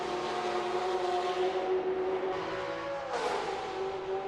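A historic Mark 1 sports car in an online racing game drones steadily at high revs, then its pitch shifts sharply downward as it sweeps past near the end, with no talking.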